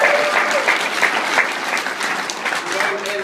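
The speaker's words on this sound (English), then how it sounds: "Let's give a round of applause for Luke." An audience at a training event applauds for Luke Wilborn, a steady crowd of clapping that starts loud and eases slightly over a few seconds, with faint voices underneath.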